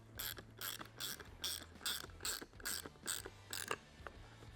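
Ratchet wrench snugging a nut onto a Prinsu roof rack bracket on a Ford Bronco, heard as about nine evenly spaced bursts of close, crisp clicking over a faint low hum.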